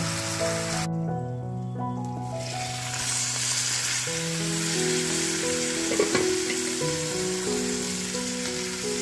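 Eggplant pieces frying in hot oil give a loud, continuous sizzle and crackle close by, with soft music playing underneath and a light clatter near the end.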